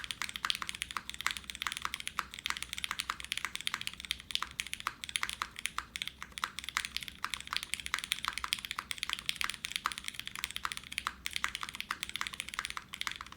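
Fast, steady typing on a polycarbonate Kohaku mechanical keyboard, a close, crisp stream of clacky keystrokes with no talk.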